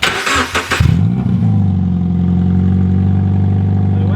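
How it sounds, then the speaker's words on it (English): A close, loud Toyota 86 engine with its exhaust removed cranks with a clattering start, then settles into a steady, deep, unmuffled rumble. "we'll rev the car and hopefully you can hear it without the exhaust mount"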